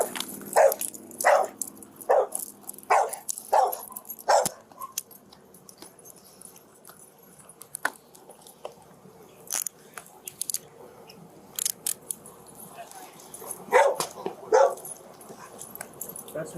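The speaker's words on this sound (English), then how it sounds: "Watch the dog." A dog barks inside a car while police carry out an arrest, a quick run of about six sharp barks followed by scattered yelps and rustling, with more barking near the end among faint background sounds.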